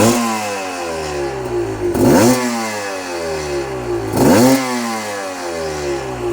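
A motorcycle engine fitted with reed valves idles with a steady harmonic drone, then revs sharply twice, each quick blip rising and falling back to idle.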